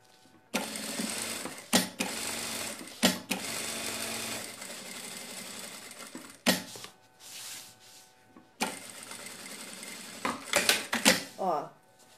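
Sewing machine stitching doubled nylon fabric for a sack bag, running in steady bursts of close mechanical whirring broken by brief pauses and sharp handling clicks, with a backstitch near the end.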